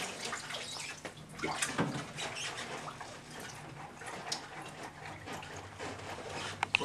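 Liquid from canned kidney beans pours and splashes irregularly into a sink or strainer, with trickling and dripping, faint clattering, no talking.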